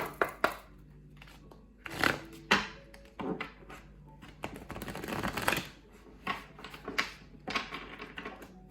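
Oracle cards shuffled by hand up close, giving a run of papery riffles, snaps and brushing sounds in uneven bursts, with no talking over them.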